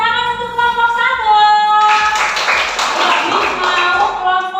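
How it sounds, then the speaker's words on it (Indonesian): A school class applauds a student group after its presentation; a voice speaks first, then a loud burst of many hands clapping together fills the rest, steady and close. "Oke, tepuk tangan untuk kelompok 1"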